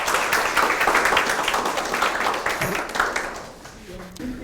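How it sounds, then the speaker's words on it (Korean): An audience at a lecture hall talk claps in a burst of applause that gradually thins and fades out, with a voice coming in near the end. "우리 박수 한번 보냅시다."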